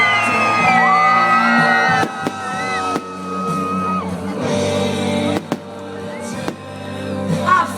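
A crowd whoops and shouts at a winter snow festival in Arieșeni with fireworks, loud and close, bursts of yelling and whistles rising over a sustained hubbub, with sharp cracks cutting through at intervals.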